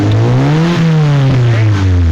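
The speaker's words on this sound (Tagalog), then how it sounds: "kailangan bibirit ang ating makina." The engine of a 1996 Honda VTi VTEC revs close and loud, its pitch climbing and dipping over two seconds in a steady drone, with no talking.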